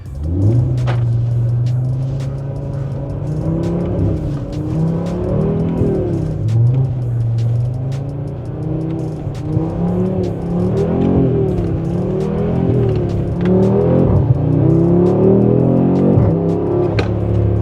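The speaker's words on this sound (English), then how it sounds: "the exhaust sounds good as we rev it up a little bit" An 8Y Audi RS3 with an ECS exhaust idles with a deep exhaust burble, then revs up and down several times, loud and close, with no talking.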